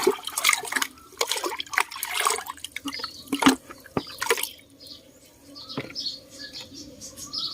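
Rice-washing water poured into a bucket, three litres in all, with irregular splashing, trickling and dripping close by, the pour coming in uneven bursts and thinning to scattered drips near the end.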